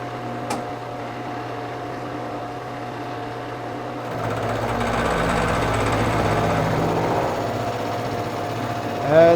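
A facemill fitted with APMT1604 inserts cuts titanium under flood coolant at 800 RPM, a steady droning machine hum that thickens into a loud, gritty cutting roar with a tonal whine, ending in a brief rising squeal.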